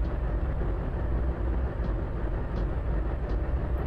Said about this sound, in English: sometimes you can actually drive the train